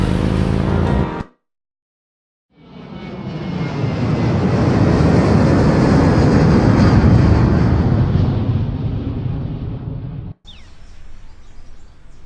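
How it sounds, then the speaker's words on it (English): Airplane flight in the adventure game Gabriel Knight: Sins of the Fathers, a broad roaring engine drone that swells up after a brief silence, holds loud and steady for several seconds, then cuts off abruptly. "Gabriel picks up his tickets at the airport and boards a plane for Munich."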